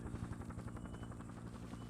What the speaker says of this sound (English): The chopper's back.